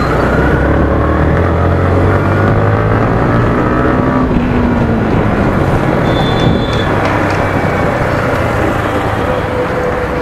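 A Yamaha MT-15 BS6 motorcycle engine revs up in a steady pull in third gear, its rising drone loud and close throughout, with no gear change.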